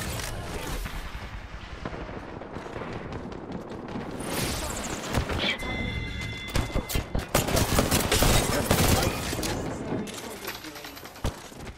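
Apex Legends gunfire crackles in dense, rapid bursts amid a loud, busy mix of in-game effects and explosions, heard nearby and continuous throughout.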